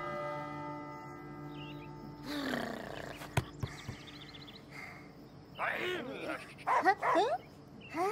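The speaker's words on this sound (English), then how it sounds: "The dog barks, then he shoots the bird." Dog barking in the video game Last Day of June, a few loud rough barks and growls in the second half over a quiet background with a sharp crack, with some talking.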